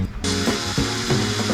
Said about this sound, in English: drills holes for the hinges